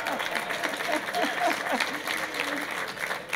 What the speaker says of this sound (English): how many women are out there clapping